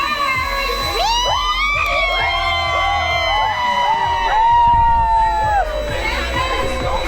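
A group of children at a gender reveal shout and cheer together loudly, high excited voices whooping and calling out in a noisy burst.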